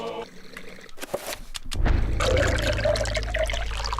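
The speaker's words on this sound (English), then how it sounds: "Dunking the urn into the foul-smelling fountain, it becomes filled to the brim with rank fluid." In the Eternal Darkness video game, an urn dunks into a foul fountain and fills with rank fluid: a splash and thunk, then a steady gurgling pour of water that continues loudly to the end.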